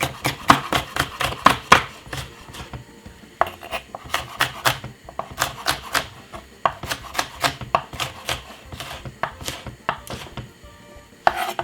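A knife chops yellow pepper finely on a board, a rapid run of crisp, close knocks in uneven bursts with brief pauses between them.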